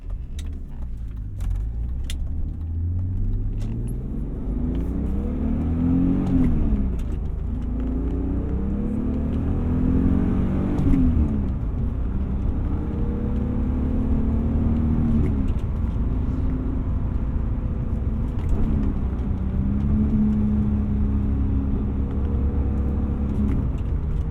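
BMW E36 engine with a UUC lightweight flywheel rumbles steadily from inside the cabin, rising and falling in pitch as it accelerates and shifts through gears, with road noise and no talking.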